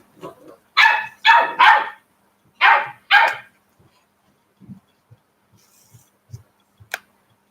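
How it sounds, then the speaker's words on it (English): A dog barks five times in two quick clusters, loud and close, then gives a few faint soft huffs and thumps in a quiet room. "You hear barking."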